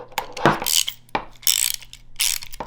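Socket ratchet clicking in short bursts while tightening a nut on Harley-Davidson highway pegs, several quick pawl-ticking strokes with brief pauses between, close and clear.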